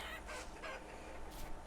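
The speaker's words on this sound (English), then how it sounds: "Here's my chicken pen." Chickens in a pen in the video game Vintage Story, a few quick, faint clucks and squawks over a steady low background hum.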